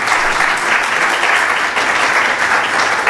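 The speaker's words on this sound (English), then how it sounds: "A louder round of applause as he takes his seat." A university lecture audience applauds loudly as the speaker takes his seat, a steady dense roar of clapping filling the hall throughout.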